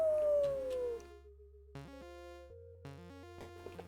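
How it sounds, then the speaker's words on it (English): A dog in a horror video game lets out a long, falling howl, followed by a series of stepped, synthetic-sounding barks over a low droning background. "I have a dog? Is that a dog?"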